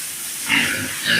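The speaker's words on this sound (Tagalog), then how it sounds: "magpapakain na po muna ng baboy" Two short bursts of pig grunting, fairly close, with a faint background hiss between them.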